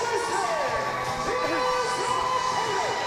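A wrestling crowd at Kingsway Hall, a dense continuous roar of cheering and shouting voices with rising and falling chants, loud and sustained.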